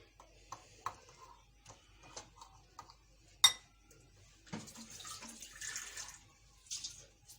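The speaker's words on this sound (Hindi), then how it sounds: "इसमें थोड़ा पानी ऐड कर रही हूँ मैं" After a few soft clinks and taps, water splashes and streams into a bowl of gram flour batter for a couple of seconds, close and moderately quiet.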